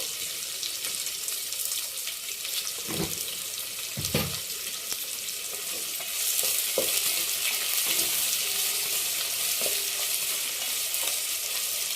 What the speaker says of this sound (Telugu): కొంచెం సాల్ట్ వేసేసి వేయించుకుంటే తొందరగా వేయించేది ఉల్లిపాయలు